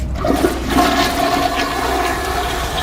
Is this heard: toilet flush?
yes